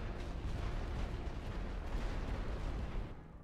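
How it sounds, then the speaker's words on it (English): Artillery bombing in the WW1 strategy video game The Great War: Western Front makes a dense, continuous rumble of distant blasts. It stays steady and heavy throughout, then eases slightly at the end. "Just start bombing them again."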